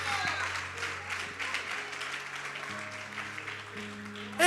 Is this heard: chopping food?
no